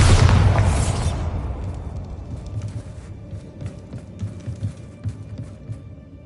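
A Bombarda blasting spell goes off in Hogwarts Legacy with a heavy, booming explosion that peaks at the start and then rolls into a low rumbling tail, with scattered debris pops and thuds continuing afterward.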